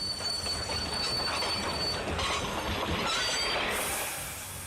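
A train braking to a stop, its wheels squealing steadily against the rails over a loud, continuous rolling rumble, with a brighter hiss rising near the end.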